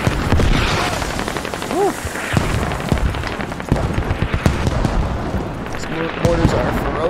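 Mortar fire and explosions crash through a large-scale Squad battle, loud and dense, with repeated booms and gunfire layered over one another while a player exclaims over the noise.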